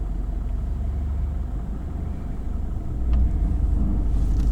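A manual car driven by a learner gives off a steady low engine rumble that swells slightly partway through, with no talk.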